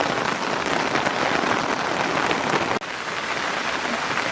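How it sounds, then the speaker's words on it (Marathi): Heavy rain pours down steadily outdoors at a stream where fish and crab traps are set, a dense, loud, unbroken hiss of drops hitting surfaces up close, with one momentary break partway through. "पाऊस आला भरपूर"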